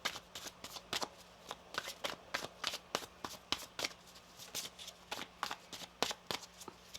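Rapid riffle-shuffling of a tarot card deck, a steady run of crisp flutters repeating about twice a second, close and fairly quiet with no talk.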